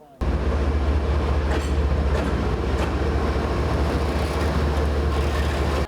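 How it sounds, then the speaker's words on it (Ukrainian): An evacuation train from frontline cities arrives at the Chernivtsi railway station with a loud, steady low rumble and faint rail clatter that holds from start to finish. "До Чернівців прибув евакуаційний потяг із фронтових міст."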